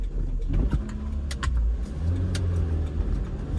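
A car with a six-speed manual gearbox is driven hard at low speed, its engine rumbling and revving up close inside the cabin with a low, steady drone.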